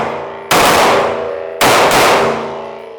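Two sharp pistol shots from a Glock fitted with a Fusion Firearms XP PRO slide and a stock OEM magazine, about a second apart, each loud and close with a ringing decay and no talk.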